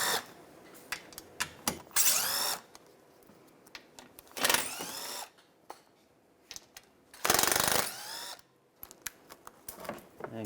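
A power tool fitted with a 7mm socket backs out shield screws under the inner fender of a 2008-2016 Chevrolet Cruze, giving several short, loud whirring bursts separated by quiet handling clatter.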